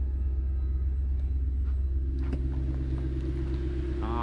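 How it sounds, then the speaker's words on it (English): A project car's engine idles after new ignition coils, fuel pump and knock sensors, a steady low rumbling hum running unbroken and fairly close throughout, with no talk. "Nice little hum."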